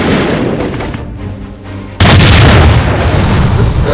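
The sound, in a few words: cannon fire sound effect in animated Transformers episode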